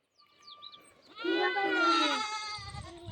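A goat bleats in one long, loud, wavering cry that builds after a faint short call, with background voices at the end.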